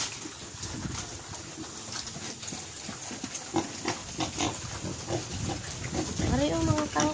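Pigs on a farm being fed fresh kangkong, with steady grunting and snuffling throughout, close and moderately loud, under a continuous hiss of background noise and occasional voices.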